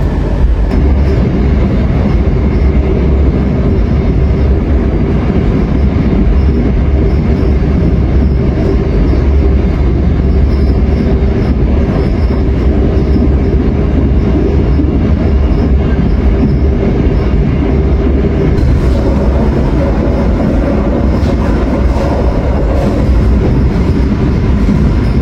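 A train pulling out of Sragen station in Java rumbles loudly and steadily, its heavy, continuous rail noise filling the whole span with no talk.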